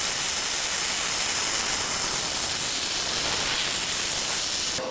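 An ESAB Handyarc stick welder burns a pass with a steady, loud, crackling hiss of the arc that holds on without a break and cuts off sharply at the end.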